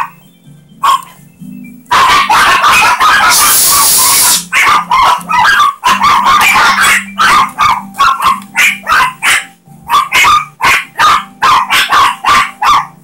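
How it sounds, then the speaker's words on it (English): Dogs barking in the Harvest Moon: A Wonderful Life Special Edition farming video game, a loud rapid series of repeated barks over a quiet background, with a brief burst of hissing partway through. "I have no control over when dogs bark."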